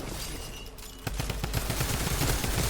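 Kar98 rifle fire in a video game. After a brief lull, a dense run of sharp, close shots cracks out in quick succession and keeps going to the end.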